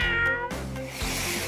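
A cat meows in a drawn-out, tonal cry that sounds close and fairly loud, with no talk around it.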